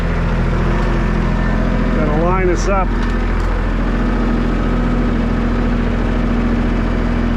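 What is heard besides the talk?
tractor engine running while covering potatoes with bucket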